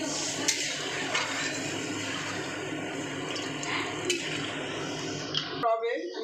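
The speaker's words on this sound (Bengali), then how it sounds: "এবার আমি জল দিয়ে দিলাম" Water poured into a thin koi fish curry simmering in a pan, a steady gush and splash lasting several seconds with small clinks, ending abruptly.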